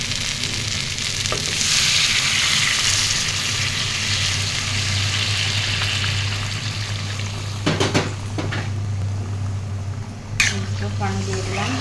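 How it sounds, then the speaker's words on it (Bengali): Potato and egg curry sizzling loudly in a pan, its frying hiss dying down as hot water is poured in, followed by a few utensil clinks and scrapes, with a voice talking over it. "গরম পানিটা এখন দিয়ে দিব।"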